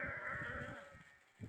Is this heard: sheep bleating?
yes